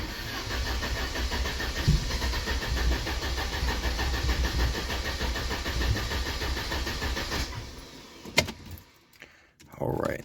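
A Mercedes 190E 2.3-16v Cosworth engine, just fitted with a new fuel pump, runs with a steady, loud mechanical drone, then falters and dies away near the end, leaving brief clicks and near-silence.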